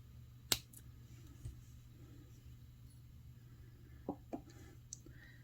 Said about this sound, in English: Cut off the extra wire.